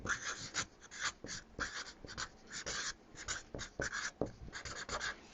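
Pen or marker scratching across a card in a classroom, a steady run of short, close strokes with brief pauses between them.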